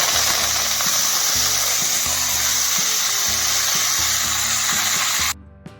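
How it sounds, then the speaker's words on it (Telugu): Curry leaves fry in hot oil, a steady loud sizzle and crackle running for about five seconds before it cuts off abruptly near the end, with a few soft clicks after. "నూనెలోనే కరివేపాకు వేసుకుందాం"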